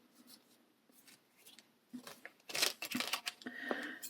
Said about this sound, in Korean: 여기서 실을 좀 잘라주세요